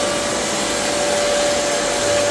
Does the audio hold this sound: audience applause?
no